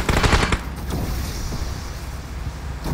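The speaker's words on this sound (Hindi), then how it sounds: "गन से फायर करना।" Rapid automatic gunfire from the mobile battle royale game BGMI (PUBG Mobile) opens with a loud burst of shots, then trails into a dense, rumbling hiss of continued fire and wind-like noise.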